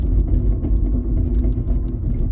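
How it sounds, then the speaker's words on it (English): Studded car tires dragging over black ice while braking hard at night: a steady, loud low rumbling grind that lasts a couple of seconds with no voices. "A lot of that noise you heard were the studs dragging"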